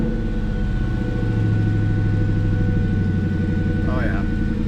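A 2001 Ford Mustang Bullitt V8 with a newly replaced idle air control motor settles into a steady, low, rumbling idle, close and continuous throughout, with a brief higher chirp near the end.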